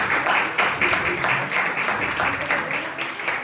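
A church congregation applauds together, steady dense clapping that swells and holds at a fairly loud level through the whole moment.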